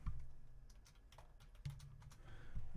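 Quick, uneven bursts of keystrokes on a computer keyboard, close and fairly quiet, with short pauses between clusters of taps and a low room hum underneath.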